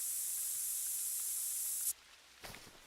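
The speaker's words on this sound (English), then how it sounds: "Put on some new smelly spray." A steady, loud scent spray hiss in theHunter: Call of the Wild runs for about two seconds, then cuts off abruptly, followed by a brief soft rustle.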